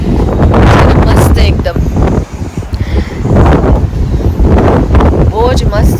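Strong wind buffets a backyard and blasts the microphone in heavy, roaring gusts with a brief lull midway, while a person talks over it.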